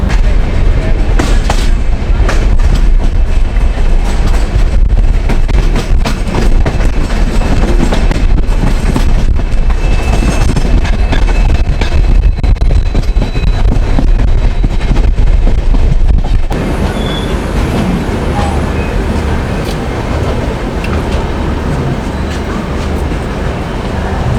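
The Ashram Express rumbles along as heard from inside an AC first-class coach, a loud continuous roar with rhythmic clickety-clack of wheels over rail joints, easing slightly softer toward the end.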